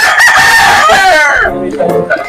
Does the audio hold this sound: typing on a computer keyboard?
no